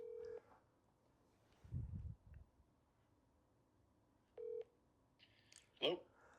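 Telephone keypad tones dial out for a call, a few short, faint beeps spaced apart over a low background hum, with a brief muffled thump in between.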